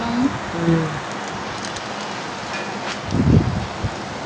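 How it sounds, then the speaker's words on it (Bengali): Heavy rain falling steadily outdoors near a playing field, a continuous broadband wash with a brief low rumble or thump near the end; no speech. "অনেক বৃষ্টি হইতেছে"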